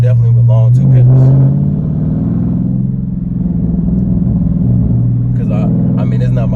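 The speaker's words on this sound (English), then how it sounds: "Definitely with all this exhaust work, her car sounds the best." A 2021 widebody Dodge Charger Scat Pack with aftermarket exhaust rumbles steadily from inside the cabin, swelling briefly as it revs, with a little talk at the start and end.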